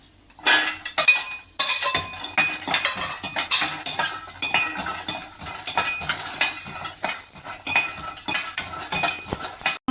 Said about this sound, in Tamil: இப்போ அதுலேயே தேங்காவையும் போட்டு வறுத்துக்கலாம்